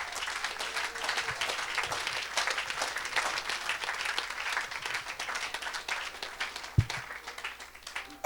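Audience applause at a French-speaking church gathering, a steady wash of many hands clapping that stays fairly distant and even throughout, with no voices standing out.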